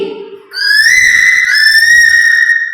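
A voice imitates a cuckoo call with a long, bright, whistle-like tone that rises slightly and holds steady, loud and close.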